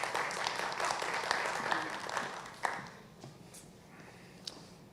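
An audience applauds to welcome a speaker at a talk on caring for the common home. The dense clapping is steady for about three seconds, then thins out to a few scattered claps.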